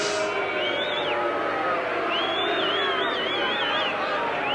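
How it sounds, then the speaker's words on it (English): A stadium crowd at a 1987 Rugby World Cup match between Australia and Japan raises a sustained, jeering roar with shrill whistles rising and falling above it. It holds steadily loud from start to finish. "it's disappointing to see the Australian crowd booing Michael Liner"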